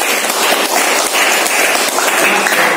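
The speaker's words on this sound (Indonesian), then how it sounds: "Beri aplaus untuk Mas Iqbal." A classroom group applauds Mas Iqbal with a dense, even wash of clapping hands, loud and close, sustained for a few seconds.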